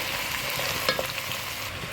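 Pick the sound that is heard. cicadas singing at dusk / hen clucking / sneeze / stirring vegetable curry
stirring vegetable curry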